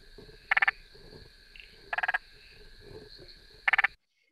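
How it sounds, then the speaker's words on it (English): Spotted marsh frogs calling in Australia: three separate bursts of rapid, clicky pulses, each a quick rattling series like a machine gun, spaced about 1.5 seconds apart over steady faint insect-like background noise. "We've also got the spotted marsh frog."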